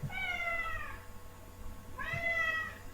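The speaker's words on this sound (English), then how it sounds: "Sorry, I hope you can't hear that cat meowing." A cat meows twice indoors, two drawn-out, moderately faint cries about two seconds apart over quiet room noise.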